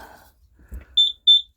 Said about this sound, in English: I'm sorry about that beeping.